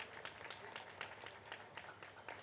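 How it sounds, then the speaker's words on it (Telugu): An audience claps for a foundation team at a spiritual talk, a dense patter of many hands that runs steadily and sounds faint and distant. "ఈ టీంకి అందరికీ మనం ఒకసారి క్లాప్స్ కొట్టాలండి"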